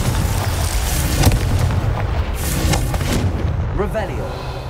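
Blasting spell explosions from the Hogwarts Legacy game, loud booming bursts that roll and crackle continuously over a dense, rumbling low end, with a sharp hit partway through and whooshing effects near the end.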